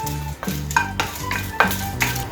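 Five dried red chillies are dry roasted in a pan, heard as rhythmic scraping strokes of a spoon against the metal, about five in quick succession, close and clear with no voices.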